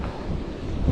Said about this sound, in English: This it's very windy here.